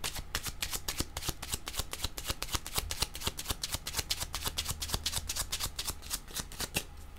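Tarot cards shuffled by hand in a steady, rapid riffling rhythm of close, crisp flicks that runs without pause, with no talking.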